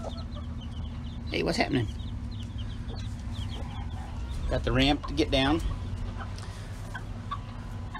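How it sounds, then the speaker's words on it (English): A mother hen and her chicks in a chicken coop, with soft clucks and chick peeps scattered throughout and a louder squawking burst midway, while someone talks close by. "This is the door to the chicken coop. Right now it's occupied with Mama Hen and her babies."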